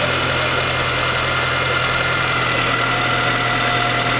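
A car engine idles at a steady, close, droning hum while the steering wheel is turned, with a faint thin whine riding over the even rumble throughout.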